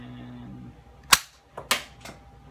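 A Backyard Blasters Colt 1911 rubber bullet toy gun fires three sharp, loud pops spaced about half a second apart, following a brief mechanical rattle.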